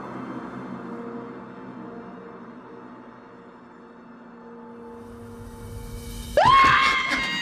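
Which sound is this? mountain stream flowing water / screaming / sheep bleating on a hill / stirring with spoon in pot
screaming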